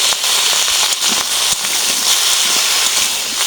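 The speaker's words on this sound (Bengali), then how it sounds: "আলু আর সিমটা কিছুক্ষণ ভেজে নেব।" Potatoes and broad beans with turmeric and salt frying in hot oil, a dense steady sizzle with crackling pops running unbroken from start to finish.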